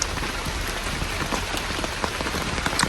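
Rain falls steadily on an outdoor garden, a dense, even patter of drops with occasional louder splashes close by, and no talking.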